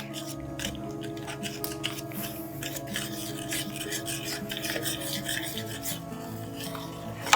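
Sauce for white cheddar mac and cheese being stirred as it thickens in a pot, with steady scraping and rasping strokes of a utensil over a low continuous hum, close and moderately quiet, with no talking.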